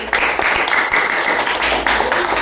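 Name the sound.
classroom applause for a student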